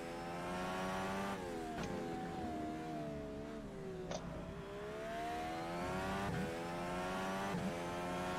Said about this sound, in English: You hear turbo, but apart from that, the engine's just naturally aspirated